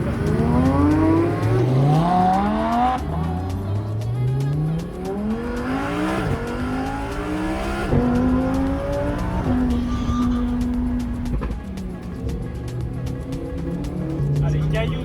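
A car drives in the GTA video game, its engine revving up and down through repeated gear shifts across the whole stretch, loud and steady, while someone talks over it at times.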